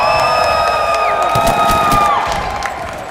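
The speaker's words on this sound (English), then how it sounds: "make some noise in the audience here live from Las Vegas" A live audience at a Las Vegas gaming event cheers, whoops and claps loudly and continuously, with children's shouts and scattered whistles over a dense crowd roar that holds steady and eases slightly at the end.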